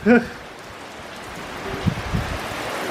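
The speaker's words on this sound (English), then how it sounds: "I don't know where this rain came from, but it's literally torrential rain" Heavy rain pours steadily into an open garage during a sudden Australian downpour, a dense broadband hiss with a few louder splashes and a brief voice at the start.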